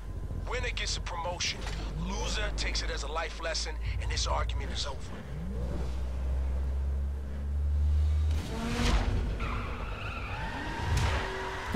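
A dragster race car in The Crew revs hard with a deep engine roar, while tires squeal and skid across the launch. A voice talks loudly over much of it, and the engine swells again toward the end.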